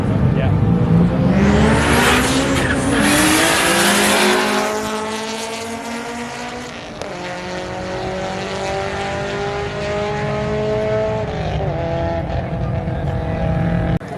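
Cars roll racing on a New Zealand drag strip, including a 650 hp Nissan R32 GTR and a Honda Civic, their engines screaming loudly as they rev up through the gears and pass close by.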